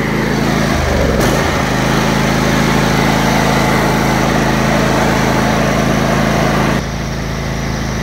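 An Ariens riding lawn mower engine runs loud and close at a steady drone, with a brief rough surge near the start and a slight drop in level near the end.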